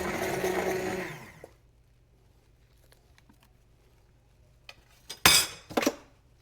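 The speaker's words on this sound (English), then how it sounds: "this is the first time and most likely the last time I will ever use an immersion blender in a skillet" An immersion blender whirs loudly in a skillet for about a second and a half, then cuts off. Near the end come a few sharp clinks of metal on the pan.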